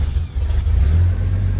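A 1941 Dodge WC-6 engine cranks over and catches, settling into a low, rumbling idle close by for the short stretch, with no talk.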